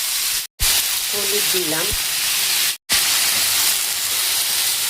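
Sliced vegetables hiss and sizzle loudly in hot oil in a home kitchen, a steady frying crackle broken by two brief gaps, with someone speaking briefly over it.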